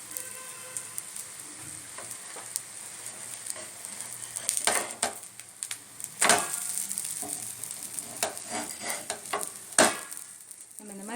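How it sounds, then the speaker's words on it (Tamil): Mumbai-style bread masala frying in a pan, stirred and turned over and over, with a steady sizzle and repeated scraping clicks and thumps of the spatula throughout. "இந்த மாதிரி திருப்பி திருப்பி போட்டோம்னா அழகாக அது வெந்துடும்."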